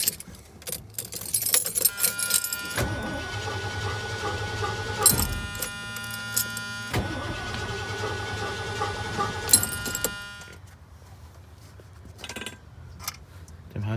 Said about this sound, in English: Why don't you try to crank it just for a second?